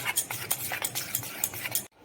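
A spoon scrapes and clinks steadily around a bowl while maida and rice flour batter is mixed until smooth and lump-free, with quick repeated strokes close to the mic that stop abruptly near the end.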